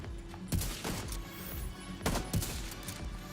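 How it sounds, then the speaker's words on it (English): A few sharp gunshots crack out in The Division 2 against a helmeted enemy, spaced irregularly with one in the middle and a cluster near the end, faint and set over quiet game ambience. "So you can shoot him with a body shot here, but the reason why I'm going for the headshots"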